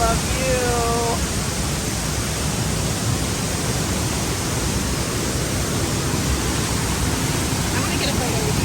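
A waterfall roars as steady, dense broadband rush throughout, with brief voices near the start and end under the continuous pour.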